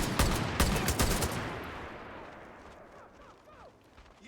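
Rifle gunfire in a beach level of a shooter video game: a rapid burst of close, loud shots fades into scattered distant fire and reverberant decay.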